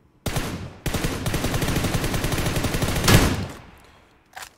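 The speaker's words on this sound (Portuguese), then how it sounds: "Mas esse acho que foi o som do, do headshot" Gunfire from the mobile battle royale game PUBG New State, including a headshot hit: a burst of rapid, loud shots in close succession, ending in one heavier impact followed by a fading tail and a short faint sound.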